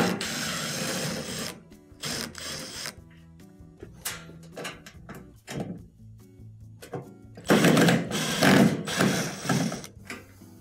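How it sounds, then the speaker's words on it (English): Phillips screws being backed out of the front of a console unit's top panel: close, stop-start bursts of ratcheting, scraping and rasping metal, with short pauses between turns and no talk. "We have a couple of Phillips screws in the front that'll need to be taken off."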